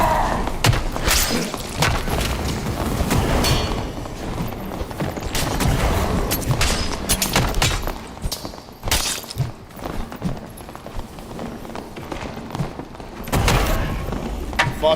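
Video game gunfire plays as dense bursts of booms and thuds, with rapid shots and impacts layered over continuous game sound effects throughout.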